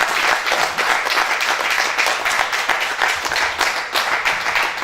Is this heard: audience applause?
yes